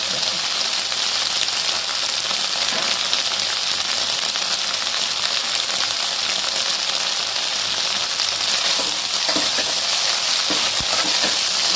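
Chorchori, methi and green chili fry in hot mustard oil in a pan, giving a steady, close, even sizzle that carries on throughout with no talk.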